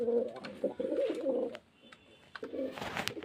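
Pigeons coo in low, throaty bursts, several calls overlapping in the foreground, with a short pause midway before the cooing resumes alongside some brief rustling.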